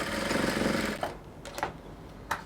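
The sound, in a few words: sewing machine stitching collar edges together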